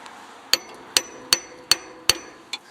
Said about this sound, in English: I'm gonna try to tap that off with a little hammer